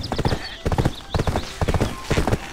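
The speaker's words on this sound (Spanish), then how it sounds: "Este ahora mismo es el mejor caballo." Horse hooves clip-clopping in a quick galloping rhythm inside a video game, loud and close, with a brief whinny-like sound mixed in.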